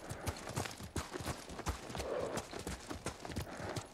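Steady clip-clopping of horse hooves on hard ground in Ghost of Tsushima, a quick regular rhythm of hollow knocks, fairly close, over a faint wash of background noise.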